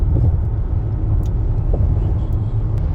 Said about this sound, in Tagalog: Ang bibilis ng sasakyan.